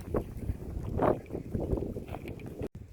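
Wind buffets a microphone outdoors at a shooting range, a steady low rumble with gusty surges throughout and a brief dropout near the end.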